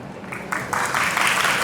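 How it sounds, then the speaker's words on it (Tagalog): Audience applause at a Senate health event honoring grandparents, rising into loud, steady, broad clapping over a brief second and continuing to the end. "Yan, palakpak na yan para sa ating mga lola at lolo"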